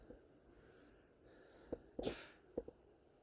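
One sharp sneeze breaks a quiet outdoor night, framed by a couple of short sniffs and breaths, close and fairly soft over a low background hiss.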